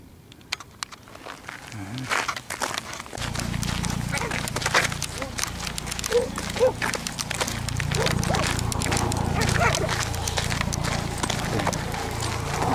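Horses ridden past on a forest path give a steady clip-clop of hooves at moderate distance, running on under people talking nearby.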